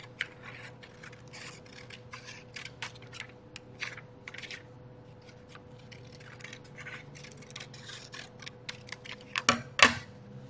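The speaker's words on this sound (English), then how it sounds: "So I'm going to cut along the dotted lines." Scissors snipping paper along dotted lines for a notebook page, a quiet run of small irregular cuts and rustles close by, ending with a couple of louder handling clicks.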